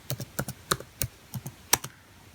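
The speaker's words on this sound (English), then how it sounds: "so I'm going to go ahead and type Flashrom" Keys on a computer keyboard typed in a quick irregular run of about ten crisp clicks, close and clear with no talking, while a command is entered on a Linux system.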